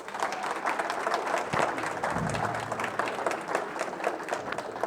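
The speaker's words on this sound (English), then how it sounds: "please give a round of applause for Noe and Ruben" An audience at a talk claps for the speakers being introduced. The applause is steady and sustained, a dense crowd patter from start to end with no speech over it.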